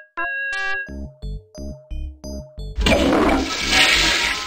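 A Day of the Tentacle toilet flush: six short chiming tones step along in a rising rhythm, then a loud, sustained watery rush of flushing fills the rest.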